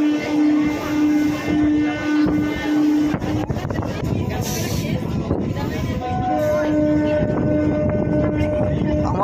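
A Digha local train runs through rural Bengal countryside, a steady loud rumble of wheels and carriage with a sustained horn-like tone early and again later, as voices talk faintly inside the coach.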